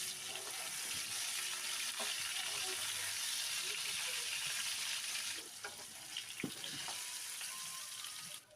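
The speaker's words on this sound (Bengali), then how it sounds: "ওই প্যানেই আলুগুলো ভেজে নেব।" Potatoes fry in hot mustard oil in a pan, giving a continuous close sizzle and crackle with occasional stirring clinks and scrapes, dipping slightly partway through before picking up again.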